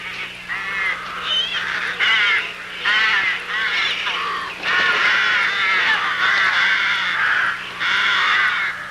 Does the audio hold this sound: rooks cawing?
yes